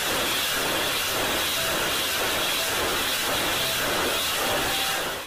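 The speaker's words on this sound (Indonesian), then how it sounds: "Lihat teman-teman, ini kereta cepat." A toy high-speed train gives a loud, continuous rushing hiss like a speeding train, whooshing steadily for several seconds without letting up, with no voices.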